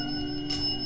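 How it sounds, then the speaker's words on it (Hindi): Bells ringing during a paranormal investigation in a haunted factory: a sustained metallic ringing tone with a brighter strike partway through, with no talk. "5 घंटियाँ हैं।"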